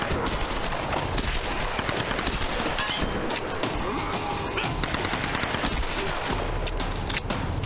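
Rapid gunfire from the 2013 Tomb Raider video game, set in a village raid, rattles as a dense, continuous barrage of loud shots and clatter that fills the whole stretch with little pause.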